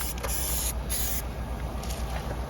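Steady spray-gun hiss as paint is sprayed onto a panel of a rusty K11 Micra in a garage, continuous and close with a brief louder surge near the start and no talking.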